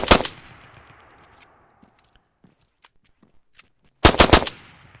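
Rapid automatic gunfire from the video game ArmA 3, two short bursts of closely spaced loud shots with a decaying echo between them and faint clicks in the gap.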